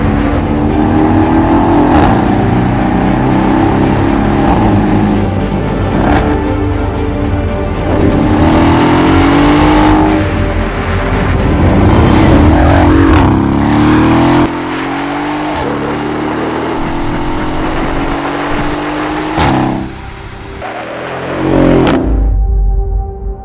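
A Mercedes-AMG S 63 Coupé engine revs hard again and again through a loud Akrapovic exhaust, climbing in pitch with each burst before dropping back, ending with a sharp crackle.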